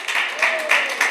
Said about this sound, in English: Let's give a round of applause to our debaters.